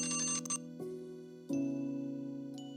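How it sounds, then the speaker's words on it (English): A phone alarm rings indoors with sustained, bright electronic tones. It starts in one pattern, then shifts into a steady ringing tone that sounds in repeated phrases and slowly fades, with no talking over it. "there goes my phone alarm"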